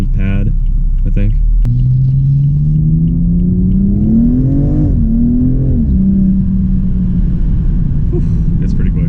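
A 2015 BMW M235i engine revs up from inside the cabin, its synthesized note climbing steadily in pitch through a long pull before easing back, loud and continuous over a steady road rumble.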